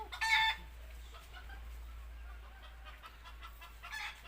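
A rooster crows once up close, followed by low clucking from nearby chickens, with faint background hum and a second brief call near the end.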